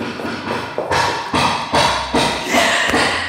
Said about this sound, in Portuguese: Peço desculpa pelo barulho. Estamos em obras na casa